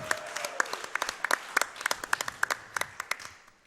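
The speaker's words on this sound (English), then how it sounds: "Come on, clap those hands." Audience applause at a speedrun charity marathon, a quick burst of many hands clapping at moderate distance that tapers off over a few seconds, with no speech over it.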